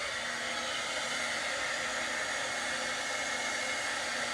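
A heat tool blows hot air over a rusty metal mailbox being made into rustic farmhouse decor, giving a steady, loud, unbroken rushing hiss that holds for several seconds with no talking.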